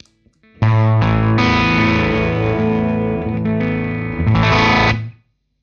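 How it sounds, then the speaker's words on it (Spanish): Electric guitar driven through a Thermion Engineering distortion pedal, a loud sustained distorted chord held for about four seconds, then restruck briefly before cutting off. "Vamos con distorsión."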